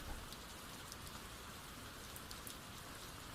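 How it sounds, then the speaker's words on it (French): Rain beating steadily on an attic skylight at night, a soft continuous patter of drops with no voices, even and moderately quiet throughout. "la pluie reprit de plus belle, battant la lucarne du grenier avec application"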